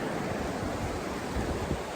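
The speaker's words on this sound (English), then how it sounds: "this water is moving" Fast mid-June snowmelt rushing down Vallecito Creek at a crossing point, a dense, steady roar of churning water filling the scene close by with no gaps or voices.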